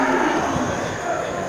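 Brahma cross cattle at a busy Aceh livestock market give a low, drawn-out moo amid steady crowd and market noise, heard at moderate distance.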